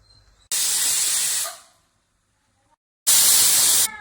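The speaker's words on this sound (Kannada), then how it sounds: "ಈಗ ಕುಕ್ಕರ್ಲಿಟ್ಟು ಕ್ಲೋಸ್ ಮಾಡಿ 1 ಅಥವಾ 2 ವಿಷಲ್ ಕೊಡಿಸಿದ್ರೆ ಆಯಿತು" A pressure cooker whistling while paneer pulao cooks, two loud close bursts of hissing steam, the first tailing off into near silence before the second blasts again.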